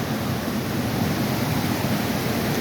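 Floodwater rushes through a swollen creek after heavy rain, a steady, dense roar of churning water, loud and continuous throughout with no voices.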